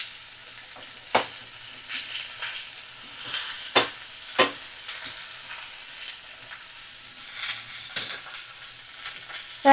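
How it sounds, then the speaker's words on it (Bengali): Cauliflower florets frying in a pan over a medium flame and being stirred: a steady close sizzle broken by several sharp scraping stirs, with no talking. "মিডিয়াম ফ্লেমে রেখে 2-3 মিনিট একটু আমি ভাজা করে নেব ফুলকপিগুলোকে"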